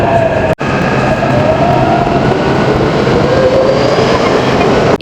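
A Taipei MRT metro train rolls through the station with a steady, loud rumble and a faint rising whine throughout, broken by a brief dropout near the start; no one speaks.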